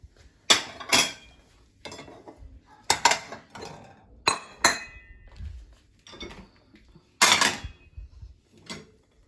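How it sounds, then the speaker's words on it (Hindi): Plates, glasses and cutlery clink and clatter as a home dishwasher is unloaded, with sharp irregular knocks in bursts separated by short pauses, close and fairly loud, and no talking. "पहले सारी प्लेटें निकाल लूँ, फिर कोई की जगह पर रख, कोई छोटी कोई बड़ी।"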